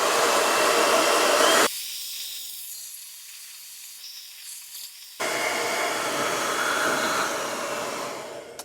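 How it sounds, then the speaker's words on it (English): Ordinary hair dryer set to hot, blowing on pool scrubber parts: a loud, broad airy roar that drops to a muffled, quieter hiss for a few seconds as the airflow is blocked or redirected, then returns to full blast. "get you a normal hair dryer, put it on hot, and then just warm them up"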